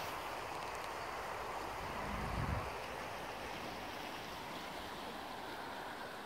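A small river runs through hilly country with a steady, soft rushing wash and a brief swell of lower noise partway through, and no voices.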